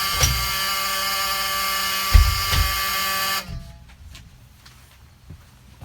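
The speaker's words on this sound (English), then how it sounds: "I'll make sure that the back door opens and closes with the alarm going off." A school bus rear door alarm drones as a steady buzzing tone with a few dull thumps, then cuts off after about three and a half seconds, leaving quiet background.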